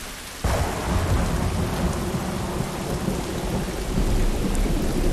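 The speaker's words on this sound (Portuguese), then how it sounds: "Ai, noite de tempestade ainda." Nighttime thunderstorm in The Last of Us video game: a dense, steady wash of heavy rain with deep rumbling thunder, opening with a sudden loud onset and staying loud throughout, with no voices.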